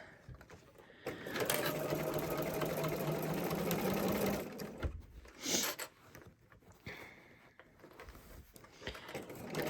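A sewing machine stitches slowly over a very thick seam, a steady mechanical whirr and rapid needle clatter running for several seconds before it stops, with a few short bursts after.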